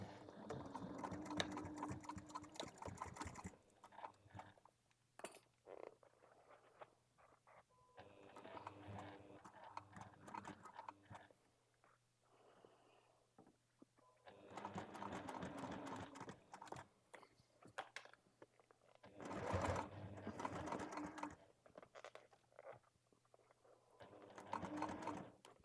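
A sewing machine stitches a bag seam in several bursts of rapid mechanical whirring, separated by short pauses, near and loud, with a low steady hum in the gaps.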